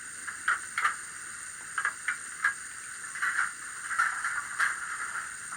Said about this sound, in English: The safety valve, hopefully.